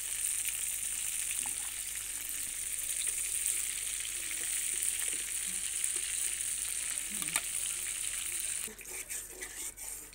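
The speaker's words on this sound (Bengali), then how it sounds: "মাছটা ভাজা হয়ে গেছে" Poma fish frying in hot oil gives a steady, loud sizzle with a bright hiss that holds for about nine seconds, then grows uneven and settles as the pieces are lifted out.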